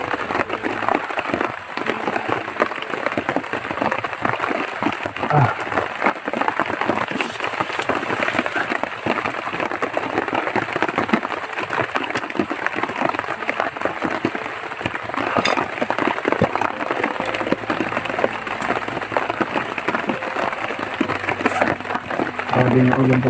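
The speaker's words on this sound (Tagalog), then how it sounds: "Ulan, ayaw maghinto." Nonstop heavy rain pours down in a loud, dense, unbroken hiss of drops striking surfaces, steady from start to finish with no pauses.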